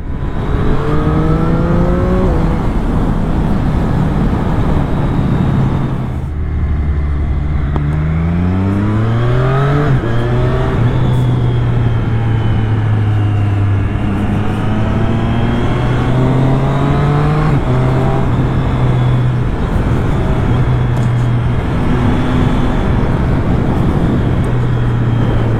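A Triumph Street Triple RS 765 three-cylinder motorcycle engine revs hard and high, its pitch sweeping up and dropping repeatedly through the gears, loud and close with no talk over it.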